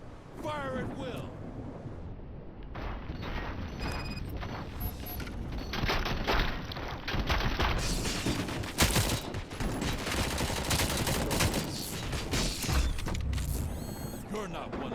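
Heavy sustained gunfire in the video game RoboCop: Rogue City, dense rapid shots and mechanical clatter over rumbling impacts, loud and continuous, with voices talking underneath.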